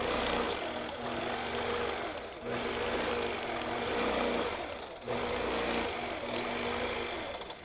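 A sewing machine stitches quilting lines around a fabric hexagon, its steady motor hum running loud and close in two long bursts with short pauses between.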